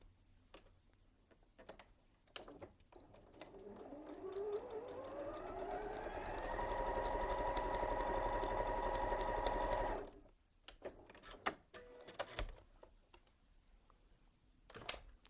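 A sewing machine stitching quilt blocks together winds up and runs steadily for several seconds, then stops abruptly, with scattered clicks and handling taps before and after.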